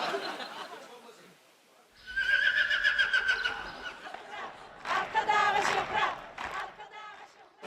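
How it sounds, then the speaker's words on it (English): A horse neighs loudly and repeatedly within a live song performance in Turkmenistan, the whinnies rising over music and crowd noise, with quieter singing or voices before and between them. "Was there a horse in the middle of that?"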